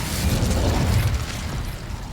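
An Incendio fire spell goes off in a wizarding video game as a low, rumbling burst of flame, loudest early on and then fading into a sustained crackling roar.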